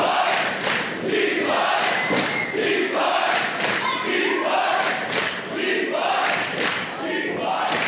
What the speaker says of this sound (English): you can hear the crowd into both of them right now